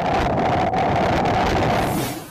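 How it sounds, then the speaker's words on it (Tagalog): Strong typhoon wind roars and buffets against the microphone in a loud, constant rush that eases slightly at the end. "Maririnig din sa video ang malakas na hangin."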